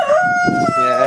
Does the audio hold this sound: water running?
no